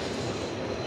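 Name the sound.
train at Cooch Behar station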